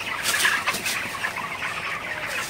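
Broiler chickens cluck and chatter in a poultry shed, with several birds calling close by in overlapping, irregular bursts and no voices over them.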